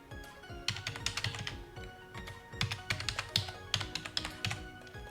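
Typing on a computer keyboard, quick bursts of close key clicks with short pauses between them, no voices over it.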